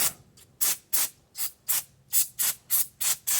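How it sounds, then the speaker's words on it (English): Brake cleaner sprayed in short repeated bursts onto a Honda Accord CV axle part, about nine sharp hissing blasts in an uneven rhythm, close and loud, with no talk. "Let me just clean this a little bit with a brake cleaner."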